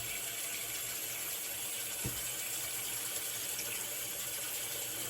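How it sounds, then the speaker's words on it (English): Cold tap water runs steadily into a basin for shaving, a continuous even hiss with one brief low knock near the middle, no voices. "So while I'm filling the basin, there's my lather."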